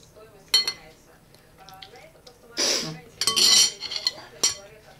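Spoon and fork clinking against dishes during a home meal, several bright metallic clinks scattered across the moment, close by, with people talking and a brief rustle between them.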